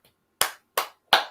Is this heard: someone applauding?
yes